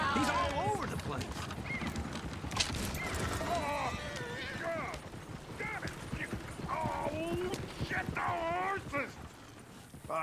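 Horses in the video game Red Dead Redemption 2 clip-clop and whinny in a town street, with frequent calls between hooves while voices talk over them.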